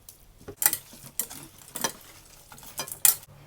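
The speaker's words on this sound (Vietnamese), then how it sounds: "Mình trộn cái gia vị này cho nó thấm miếng thịt nha." Pork being mixed with seasoning, sugar and a little cooking oil in a bowl, heard as a series of close, light clicks and scrapes of a utensil against the dish, irregular and spaced out with quiet between.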